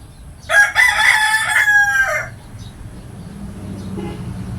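A gamefowl rooster crows once, loud and close, in a long strained call lasting about two seconds, followed by quiet farmyard background.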